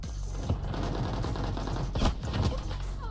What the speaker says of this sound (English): That man started shooting before he made the corner.